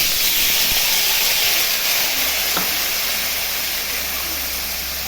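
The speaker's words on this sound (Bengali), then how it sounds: "কালো জিরা ফোড়ন দিচ্ছি, এখন আলুটা দিয়ে দেবো।" Potatoes hit hot oil with a nigella seed tempering in a pan, giving a loud, continuous close sizzle and steamy hiss with one faint clink partway through.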